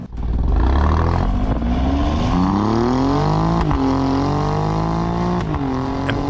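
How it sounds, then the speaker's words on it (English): Alfa Romeo Giulia Quadrifoglio accelerating hard from 0 to 100 in race mode, its loud engine climbing in pitch through the gears with brief dips at the shifts, close and sustained, with no talking. "Alfa claims that the Giulia Quadrifoglio can do the 0 to 100 sprint in"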